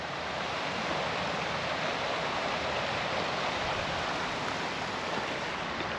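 Water rushing steadily along Jakes Creek beside a trail, a continuous broad hiss, soft and even, with no voices over it.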